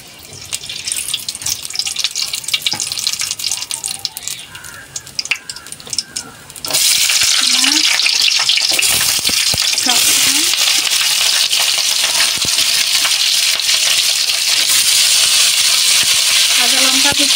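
Whole garam masala hits hot oil in a wok: after a quieter stretch with some talking, a loud, continuous hissing sizzle suddenly starts and carries on steadily to the end, with occasional clinks.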